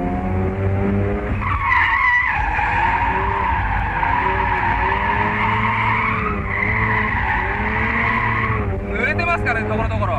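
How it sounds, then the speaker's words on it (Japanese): A car drifts on a partly wet surface, the driver working the handbrake, with long sustained tire squeals that rise and shift in pitch, a brief break near the middle and another slide at the end, close and loud over engine noise. "サイドドブレーキをですね多様に使ってドリフトしているところですね"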